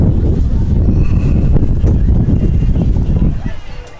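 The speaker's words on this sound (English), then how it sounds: "Most definitely windy tonight." Heavy wind gusting across an outdoor lacrosse field on an evening before a girls' JV game, roaring loudly and continuously, easing toward the end.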